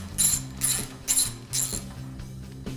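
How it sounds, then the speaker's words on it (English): A ratchet backs out 10mm bolts holding the transmission cooler to the upper radiator support of a 2011-2016 Ford 6.7L Powerstroke, four quick bursts of close, crisp clicking at a steady pace, with no talking. "Next, we're gonna remove 2 10mm bolts that hold the transcooler to the upper radiator support."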